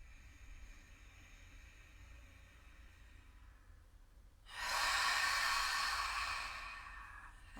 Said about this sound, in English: breathe in through your nose, force the air out through the mouth